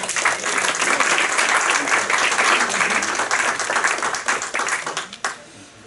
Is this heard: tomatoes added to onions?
no